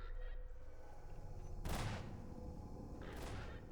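Automated turret in Half-Life 2 fires two short, sharp bursts of gunfire, the first louder, separated by a pause over a low background hum.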